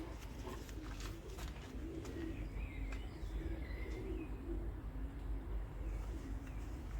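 Picasso breed pigeons coo in low, rolling bursts, repeated close by over a steady hum, with a few faint chirps in the background.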